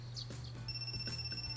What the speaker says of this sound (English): My phone is ringing its morning alarm.